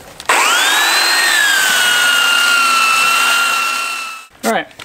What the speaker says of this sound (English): I'm tired of sanding